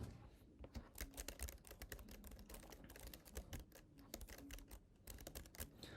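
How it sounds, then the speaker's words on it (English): Steady, quiet clatter of keys on a computer keyboard while a display name and username are entered, irregular bursts of keystrokes continuing throughout with no one speaking. "Okay, I'm typing my display name and username now."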